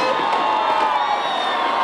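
A New Year's Eve crowd in Trieste's Piazza Unità shouts and cheers together, a loud, sustained mass of whoops and yelling voices filling the square without pause.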